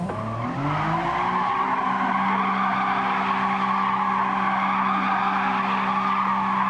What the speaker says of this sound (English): Let me just burn the tires a little bit.